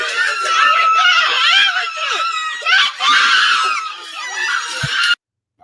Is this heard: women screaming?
yes